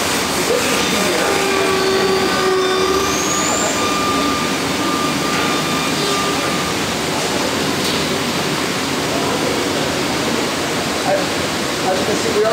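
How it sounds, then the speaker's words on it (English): A 5-axis CNC router at the Warwick bass factory in Germany cuts bass body blanks, giving a loud, continuous broadband roar with faint whining tones over it. "you clearly see an example of the 5-axis CNC router that we have"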